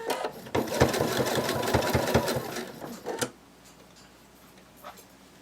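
A sewing machine stitches a fabric bunny plush with a loud rapid whir for about three seconds, then stops abruptly, leaving quiet handling noises.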